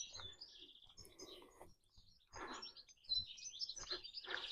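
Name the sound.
birds singing in a quiet neighborhood of Granada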